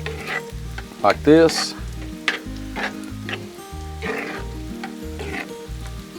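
Homemade sausage gravy simmering on a Blackstone griddle, a steady sizzle and bubbling with scraping and stirring clatter of a spatula, loud and close, with a brief spoken word.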